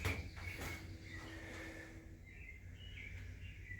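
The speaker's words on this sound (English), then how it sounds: "you can hear the birds chirping" Birds chirp outdoors at a forest fire tower in Sugar Hill State Forest, giving faint, repeated high tweets that are distant and quiet over soft background ambience.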